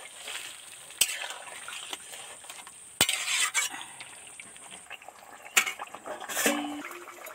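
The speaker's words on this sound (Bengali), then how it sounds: "বড়াটা দিতে ডুবুক করে ফুটছে" Lentil fritters dropped into a boiling curry in a pan, giving a steady bubbling hiss with a few sharp knocks and clinks of a utensil against the pot; no talking.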